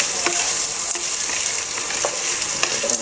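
Pasta being sautéed in a pan for sopas, a loud continuous bright sizzle with a few light stirring clicks, close and steady, with no talking.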